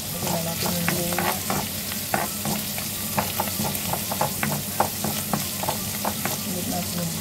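Ginger dropped into a hot oiled pan sizzles loudly while a spatula stirs and scrapes in quick irregular strokes, close and steady throughout, for a Filipino eggplant, string bean and mushroom dish.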